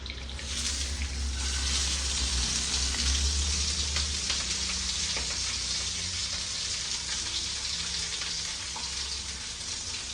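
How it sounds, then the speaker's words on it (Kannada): Marinated fish frying in a hot pan, a steady, dense sizzle that runs the whole time at close range with no one talking. "ಸಾರು ಕಾದಿದ ತಕ್ಷಣ ಹೆಂಚಿಟ್ಬಿಟ್ಟು ಫ್ರೈ ಹಾಕ್ಬಿಡೋದೆ"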